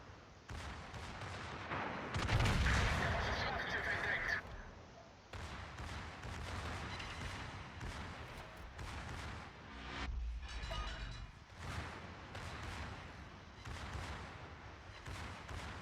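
Secondary guns on the battleship Friedrich der Große fire in a naval video game, heard as a heavy run of booming shots and rumbling blasts in repeated bursts at moderate distance.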